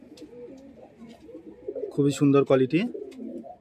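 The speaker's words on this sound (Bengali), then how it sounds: "এটা ফুলশিরা কবুতর।" Fulshira pigeons in a loft give soft, throaty coos that swell into a louder rolling burst near the end, heard close up while someone talks over them.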